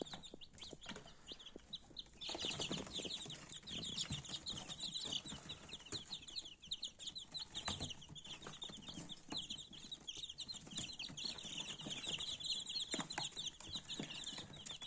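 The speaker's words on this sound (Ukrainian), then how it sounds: "Ось стоїть представник породи курей Лакенфельдер." Dense high-pitched peeping of many Lakenfelder chicks, continuous and fairly loud, with occasional soft clucks and rustling throughout.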